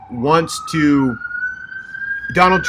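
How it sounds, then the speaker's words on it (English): A wailing siren in New Orleans holds a steady rising tone in the background while someone talks over it in short phrases. "of course you hear sirens in the background"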